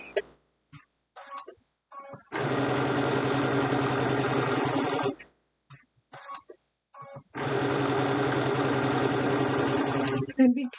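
A serger or sewing machine stitches a pillowcase in two long, steady runs of fast, even mechanical whirring, each several seconds long and separated by quieter handling sounds.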